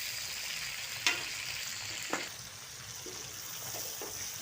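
Chicken frying with onions in a pan gives a steady, fairly close sizzle, with a couple of sharp clinks from stirring breaking through the hiss.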